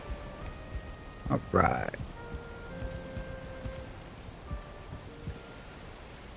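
Steady rain falls in the video game Valheim, a soft continuous patter with faint tonal music lines above it and a short spoken phrase near the start.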